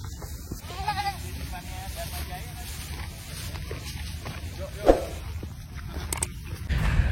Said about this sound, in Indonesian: sama kambing-kambing.